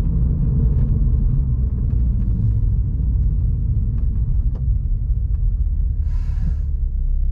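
A car engine rumbles low and steady from inside the cabin as the car slows to a complete stop, easing down without any sharp changes; a short breathy sound near the end.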